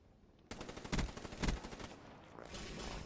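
Rapid automatic gunfire in the video game Black Ops 3, bursting in suddenly after a quiet start with dense, loud volleys and a couple of heavier blasts, then continuing as a steady rattling clatter.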